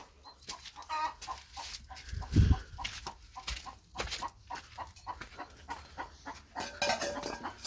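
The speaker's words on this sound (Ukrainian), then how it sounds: "А ось ти, це ти квокчеш." Clucking from a white backyard hen in an evening farmyard, sitting near a nest, comes through as a series of short, soft clucks spread across the clip with faint rustling and a light clank between them.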